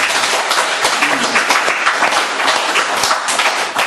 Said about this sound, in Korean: 감사의 박수 한번 드립니다